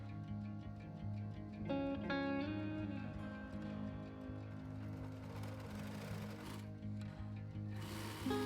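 A sewing machine runs steadily, stitching the side seam of a shoulderless top from the elastic neckline down to the armhole, a continuous close mechanical whir with faint tonal hum.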